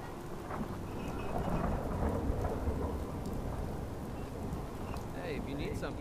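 Steady rain in the video game Fallout 4, a dense hiss of drops on surfaces with a low rolling rumble like distant thunder underneath, continuous and fairly loud.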